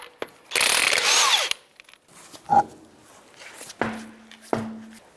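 A 21 mm socket on a ratchet or impact tool loosens the wheel of a 2008-13 Mazda 3, with one long loud burst followed by a few shorter mechanical clanks and clicks, close by.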